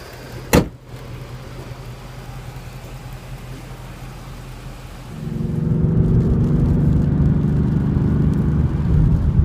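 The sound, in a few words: 2015/2016 Ford Mustang GT 5.0L V8 accelerating on test drive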